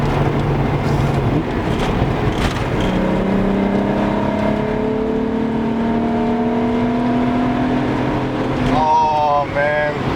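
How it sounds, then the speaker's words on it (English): A small VW Golf VR6 V6 engine revs up through rising gears from inside the car, its buzzing pitch climbing steadily with a gear change near the end, loud and continuous. "it's a tiny little V6 engine that's buzzing around like this"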